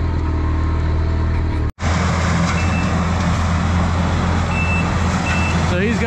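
A Takeuchi skid steer at a forestry mulching site gives off loud repeating reversing beeps over a steady diesel engine roar, broken by a short drop-out near the start.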